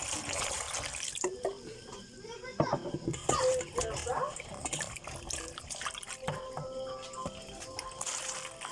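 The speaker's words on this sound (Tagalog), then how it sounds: "Maghugas ta sa okra ug talong." Water runs and splashes as okra and eggplant are washed in a kitchen sink, with tap flow and dripping close by under a child's and an adult's talk.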